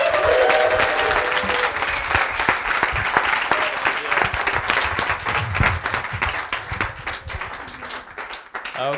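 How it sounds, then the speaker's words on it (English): A lecture audience applauds a speaker about to present on coffee extraction, steady dense clapping from a sizeable crowd at moderate loudness throughout, with faint murmuring underneath. "Please give a great round of applause to Chahan Yeretzian."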